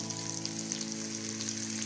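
Chopped onion frying in oil with garlic in a pan, a steady fine crackling sizzle that holds evenly throughout, with a low constant hum underneath.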